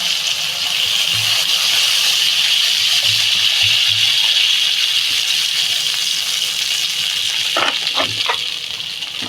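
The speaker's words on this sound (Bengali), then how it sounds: "বন্ধুরা আমি এবার পরিমাণ মতো জল দিয়ে দেব" Water is poured into a pot of tilapia curry with pumpkin greens, a steady loud gushing splash that lasts several seconds before a few clattering knocks near the end.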